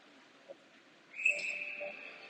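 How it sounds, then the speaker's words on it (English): A referee's whistle at a match blows one sustained, fairly loud shrill tone lasting over a second, after a brief quiet thump and low background murmur. "Do we have a whistle?"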